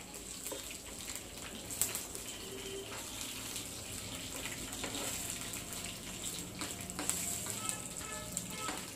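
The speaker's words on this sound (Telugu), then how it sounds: "ఆయిల్ హీట్ ఎక్కిందండి పోపు దినుసులు పెట్టేసి ఆవాలు కరివేపాకు" Mustard seeds and curry leaves sizzle in hot oil as a tempering for a moong dal and raw mango pickle, giving a steady, close crackling hiss with scattered pops and no talking.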